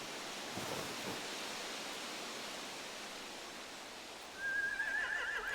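Horses neighing in The Walking Dead video game, a single bright whinny rising near the end over a steady rushing ambient noise bed.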